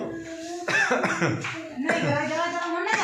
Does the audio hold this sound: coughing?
yes